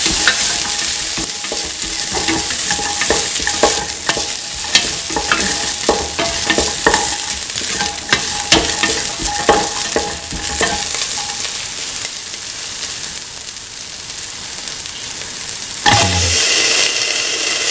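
Ingredients for an okra and chickpea dish sauté in a pan with a loud, busy sizzle and rapid stirring clatter, easing off before a final louder burst of frying.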